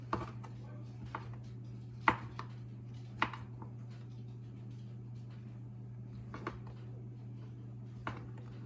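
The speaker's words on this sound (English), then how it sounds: "Then we have some mushrooms. Very easy to cut." A knife cuts through mushrooms on a cutting board in a home kitchen, giving a handful of sparse, soft taps spread out over several seconds above a steady low hum.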